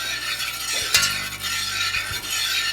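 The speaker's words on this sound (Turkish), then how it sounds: "Karıştırmaya başlıyoruz." Steady scraping swirl of a spoon stirring milk, sugar and semolina in a pot for semolina dessert, close and continuous with a few sharper knocks against the pot, no talking.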